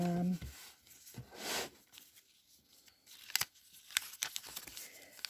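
Scissors trim stitched single-folded paper, giving a few sharp, brief snips and crisp paper rustles, each cut quick and close by, with handling noise between them.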